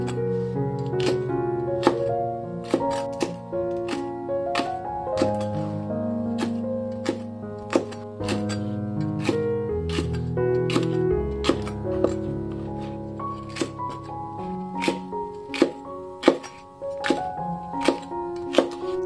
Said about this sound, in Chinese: 下面再改刀切成菱形小块